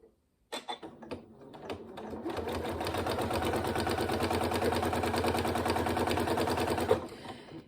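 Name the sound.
sewing machine sewing a seam on a zipped pencil case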